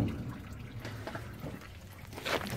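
Engine coolant draining out during water pump removal, a faint, steady trickle and drip of liquid that runs throughout, with a brief splashier moment near the end.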